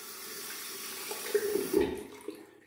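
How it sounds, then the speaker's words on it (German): Hands are rinsed under a running tap during a wet shave, a steady close rush of water with brief splashy surges as the hands pass through the stream, then the flow fades. "Hände kurz abspülen."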